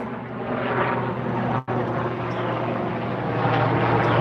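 A helicopter passes overhead outdoors, a steady loud rotor and engine drone that holds for several seconds, broken by a brief dip in the middle.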